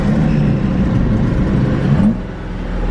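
A twin-turbo Ford Mustang with a cold air intake fires up close by, a loud low rumble that settles into a steady idle, with no talk.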